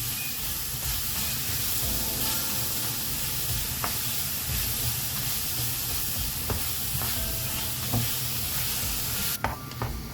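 Banana pieces being gently stirred as they caramelize in a hot pan, with a steady soft sizzle and occasional light utensil scrapes and clicks against the pan, close and continuous.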